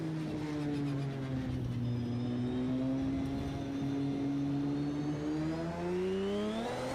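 A Porsche car engine in the racing game Project CARS 2 accelerates with a smooth rising whine, its pitch climbing steadily for several seconds, moderately loud and alone.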